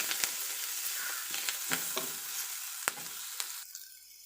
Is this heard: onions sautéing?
yes